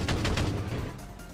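A rapid burst of assault rifle gunshots in an audio drama, four or five sharp, booming reports in quick succession that echo and fade out.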